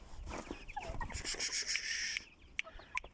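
Poultry cluck and squawk close by, with one bird letting out a rising call before a few sharp clucks.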